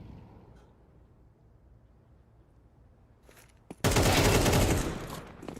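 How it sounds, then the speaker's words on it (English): Gunfire in Counter-Strike 2 during a competitive match bursts in loud, dense rapid fire for about a second and a half after a quieter stretch with faint earlier shots. "A bullet to the face by Coolio."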